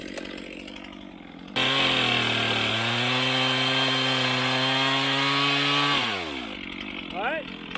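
A chainsaw revs up and bites steadily into a standing tree during a felling cut under the wedge, loud and close with a sustained engine drone, then winds down as people talk nearby.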